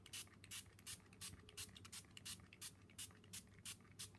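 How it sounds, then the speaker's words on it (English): Quiet, rhythmic hissing bursts of a spray bottle misting water onto watercolour paper, about a dozen quick pumps at an even pace with soft pauses between them. "We're going to spray our watercolour paper."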